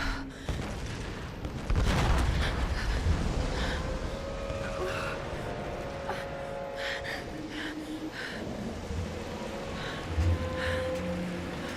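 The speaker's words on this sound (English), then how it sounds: "Seems like yet again explosions follow us everywhere." Explosions in the Tomb Raider video game: a heavy booming blast early on, followed by rumbling debris and lingering roar, with a smaller burst later among continuous game ambience.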